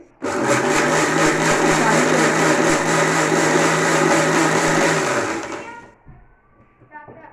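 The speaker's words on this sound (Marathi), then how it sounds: "हे सगळं मिक्सर बारीक करूयात आपण पाणी टाकून" A mixer grinder blending spices with water whirs loudly and steadily for about five seconds, then winds down and stops, leaving a few faint clinks and rustles.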